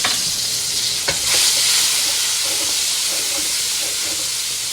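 Minced garlic and meatballs frying in avocado oil, a loud, constant sizzle close up, with a brief stirring disturbance near the start.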